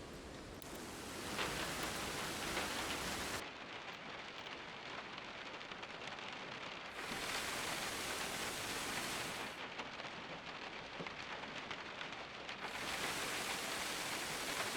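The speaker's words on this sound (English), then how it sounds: "You can hear rain ding on a metal APC or when you're in a truck." Rain drumming on a metal APC in the game ArmA Reforger: a dense, continuous hiss of drops that swells and fades in long waves, steady and moderately loud with no voices.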